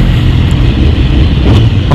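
Car engine rumble while sitting in road traffic, a loud continuous low drone with wind buffeting, steady throughout with no talk.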